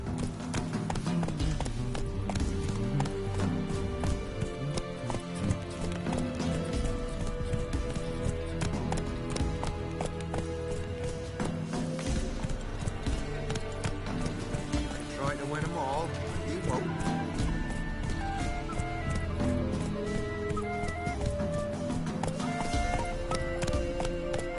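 A horse gallops in The Witcher 3, its rapid clip-clop hoofbeats running steadily throughout, layered with game music, ambience and voices.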